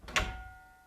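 A small window door in a house swings open onto the woods, a single short knock-like clunk followed by a faint ringing tail that fades out, close and quiet.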